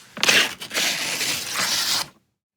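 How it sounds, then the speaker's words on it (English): Paper is torn in one long, close, crackling rip lasting about two seconds, with a brief pause near the start, then silence. "You're ripping paper."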